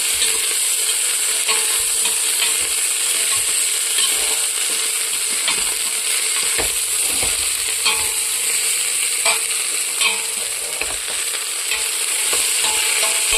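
Ingredients for a drumstick-leaf millet dish sauté in a pan with a loud, steady hiss of frying, scattered ladle taps and scrapes against the metal, close up and without speech.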